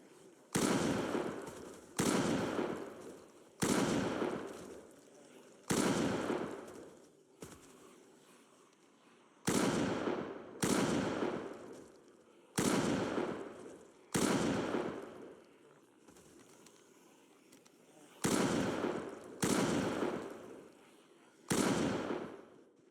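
In the Project Zomboid video game, gunfire blasts down a group of zombies: about a dozen loud, booming shots at an uneven pace, each trailing a long echoing decay.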